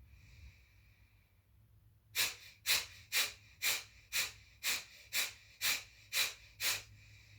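Deep rhythmic breaths during an abdominal yoga breathing exercise, about ten strong, evenly spaced exhalations following a quiet pause, close and clear with no talking.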